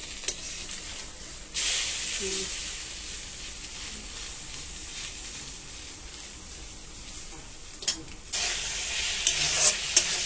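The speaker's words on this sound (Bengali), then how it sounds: "আর আমি এসেছি ডিমটা ভাজতে" Fish roe fries in a pan, giving a long, steady sizzle that swells louder in bursts, with faint clinks and light background noise but no clear talking.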